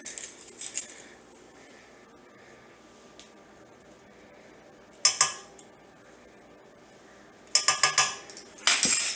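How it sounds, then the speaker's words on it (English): A spoon clinks and scrapes against a big bowl while sugar and salt are mixed for quick homemade bread dough. The sounds are sparse and light at first, then come in sharper bursts of clatter near the end, with no talk. "you can mix this in a big bowl with a spoon or a wooden spoon"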